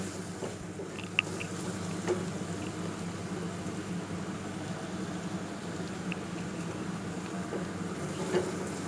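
Cumin powder, garam masala and turmeric fry in a pan while being stirred, making a faint, steady sizzle with occasional light scraping ticks, close and quiet with no talk.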